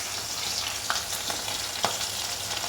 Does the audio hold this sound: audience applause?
no